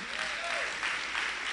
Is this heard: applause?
yes